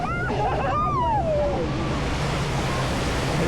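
Choppy river rapids rush steadily as a steady broadband wash on the Fjord Rafting water ride at Europa Park, with a brief excited voice near the start.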